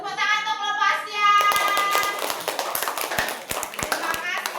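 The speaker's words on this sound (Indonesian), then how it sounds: "Ayo, kelompok yang kedua tepuk tangan untuk kelompok Askia." Schoolchildren in an Indonesian primary classroom clap for a classmates' group during a science lesson, starting with a few claps under a sung tone, then a dense burst of rhythmic clapping with sharp individual slaps, close and loud.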